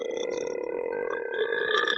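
A person imitates a deep, drawn-out burp with their voice, a low, rumbling, gravelly sound held steadily for about two seconds, close to the mic and alone.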